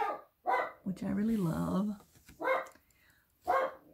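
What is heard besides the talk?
dog barking indoors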